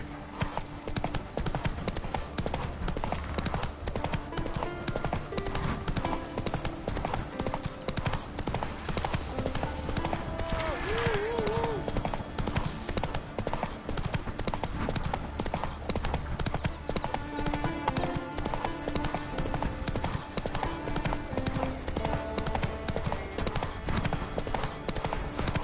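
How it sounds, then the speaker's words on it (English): Hooves of the horse galloping in The Witcher 3 pound in a continuous rapid clip-clop rhythm, loud and close, mixed with game ambience and a brief faint whinny. "Run, Roach."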